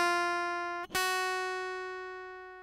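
Open high string of a guitar picked twice in a beginner exercise, each note clear and ringing with a bright sustained tone, the second pluck following quickly and slowly fading.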